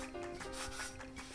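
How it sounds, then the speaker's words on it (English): A cloth rubs down a cast iron skillet during seasoning, giving a close, steady scrubbing and wiping sound with repeated strokes over roughly a second, with no talking. "I'm going to do my final rub down with the cloth"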